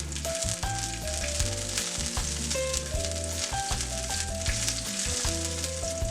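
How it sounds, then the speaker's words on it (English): Chopped garlic and green chili sauté in hot oil with a loud, continuous close sizzle, while soft background music plays throughout and no one speaks. "Add chopped garlic and green chili, and sauté until fragrant."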